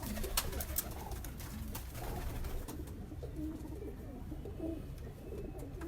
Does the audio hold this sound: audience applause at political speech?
no